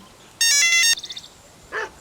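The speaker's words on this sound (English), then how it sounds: "Oops, the telephone." An electronic telephone ringtone in a TKKG audio drama rings in one loud, bright burst lasting about half a second, followed by a few short trailing pulses and then a brief fainter tone, with no voices.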